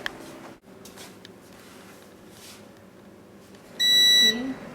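A kitchen timer set for baking cheese bread goes off near the end with a short burst of loud, piercing electronic beeping after several seconds of quiet room tone.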